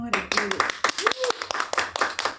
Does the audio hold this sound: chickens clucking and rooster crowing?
no